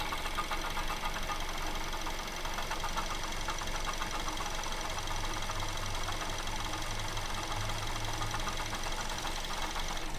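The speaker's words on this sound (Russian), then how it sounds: "Я вот при помощи трубки слушал генератор, звук больше идет от него, звонкий." Mazda2 engine knocking, with a ringing sound from the alternator and a tensioner pulley moving side to side, producing a steady rapid ticking clatter over a dense mechanical hum, heard up close and unchanging throughout.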